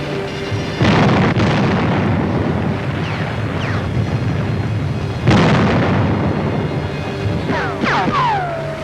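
Heavy explosions and gunfire strike enemy gun positions in a 1944 Marianas island battle, two big booming blasts with rumbling aftermath and scattered whistling shells, loud and close.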